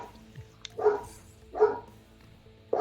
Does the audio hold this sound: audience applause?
no